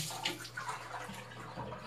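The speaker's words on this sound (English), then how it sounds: "Now I'm gonna get some water in this cup" Water pouring into a cup from a tap or container, a soft continuous trickle and splash held steady for about two seconds, quiet and close, with no talking.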